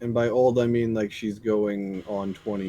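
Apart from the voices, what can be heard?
No everyday noises stand out.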